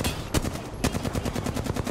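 Video game gunfire rattles off in fast, evenly spaced bursts, close and loud, with two sharper, heavier shots standing out early on.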